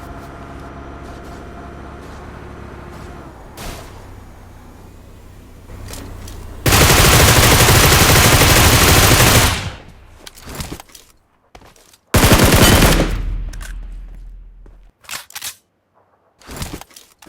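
Automatic weapon fire from a battle royale shooter match, solo against a squad: two long, loud bursts of rapid shots, the second shorter, separated and followed by quieter clicks and short pops of gameplay sound.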